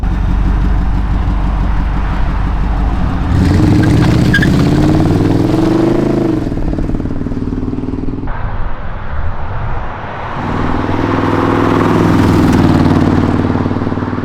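Chevrolet Camaro Z28 V8 from 1994 with an aftermarket cam, close and loud: a choppy lumpy idle, then repeated revs that rise and fall, dropping back to idle before climbing again.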